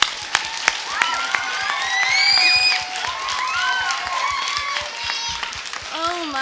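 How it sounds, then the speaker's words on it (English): Audience clapping for a woman invited up to speak at a school event, steady scattered claps under whoops and cheers, with voices calling out over it. "Let's give her a big round of applause."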